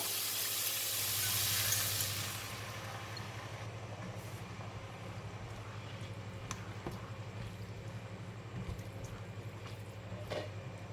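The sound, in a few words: sauce sizzling in frying pan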